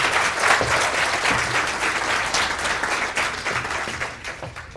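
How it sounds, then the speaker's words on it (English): A lecture audience gives a steady round of dense applause for Professor Stephen Minger, loud and close, easing slightly toward the end. "let's give a round of applause to Professor Stephen Minger"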